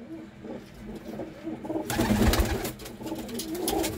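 Pigeons coo low and steady at a Punjab pigeon fancier's loft, then a burst of broadband rustling, like wing flaps, joins in halfway and carries on over the cooing.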